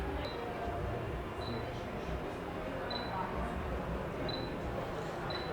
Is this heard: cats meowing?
no